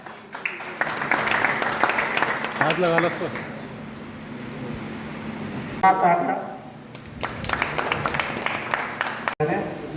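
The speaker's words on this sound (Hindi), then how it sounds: "जोरदार तालियां।" Applause bursts out at a community gathering, rising in waves that fade in the middle and return, with someone speaking over it and other voices mixed in.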